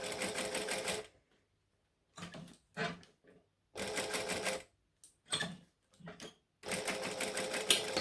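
A sewing machine backstitches through a vinyl airliner cabin bag in several loud bursts of rapid stitching, separated by pauses and short handling sounds.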